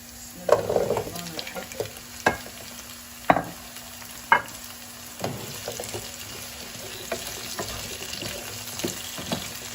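Leeks frying in a pan, a steady low sizzle broken by several sharp scrapes and knocks of stirring, close and fairly quiet, with no talking.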